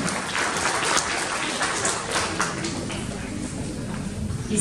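An audience at a school awards event in Rokiškis claps for a pupil who placed third in a Lithuanian language olympiad. The applause is a brief, even wash of many hands and fades slightly toward the end.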